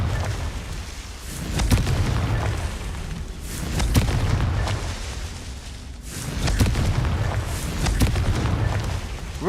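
Confringo blasting spells explode in the Hogwarts Legacy video game, several deep booming bursts a couple of seconds apart over a rumbling ambient bed.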